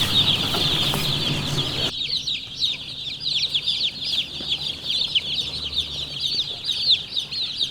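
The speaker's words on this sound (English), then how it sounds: "Here come our chickens, our baby chicks." Baby chicks and hens on a farm fill the air with constant high, shrill peeping and soft clucking, close and busy throughout with no talking.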